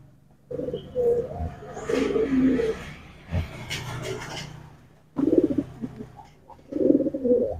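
Several low, throaty pigeon coos in bursts with pauses between, fairly close, plus faint rustling and a distant hum.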